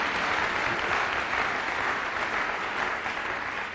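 Church congregation applauding during a French-language sermon on the Lord's Supper; steady, dense clapping from a large crowd fills the space continuously throughout, with no speech over it.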